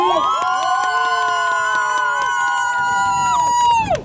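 Shouts and cheers rise together from an outdoor crowd at a city-day fish soup contest as people back a team, loud and sustained for several seconds before fading at the end.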